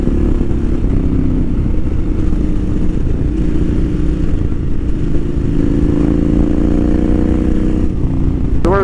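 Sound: KTM 990 motorcycle riding, instant throttle

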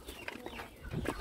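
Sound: chickens clucking

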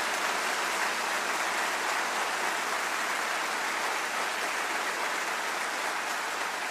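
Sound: audience clapping at a large convention

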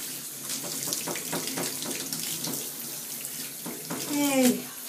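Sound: tap water rinsing a dog after tick removal

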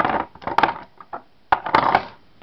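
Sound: nail polish bottles being put back into a box

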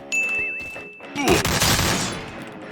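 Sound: AK rifle gunfire in video game Free Fire Max

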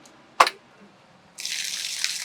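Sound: borewell pump motor started, water gushing out

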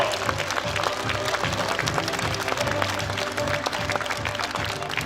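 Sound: audience applause welcoming residents' committee members at workshop

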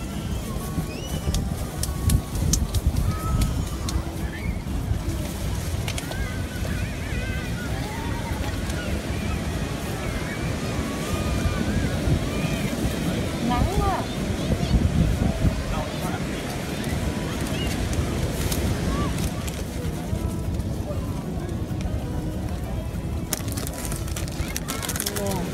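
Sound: strong wind at the beach

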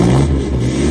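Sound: modified Toyota Fortuner exhaust revving

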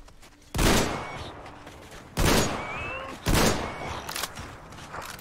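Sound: shotgun fire in the video game Metro Exodus

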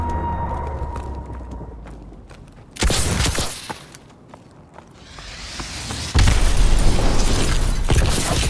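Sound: missile strike explosions from a video game, Call of Duty Advanced Warfare

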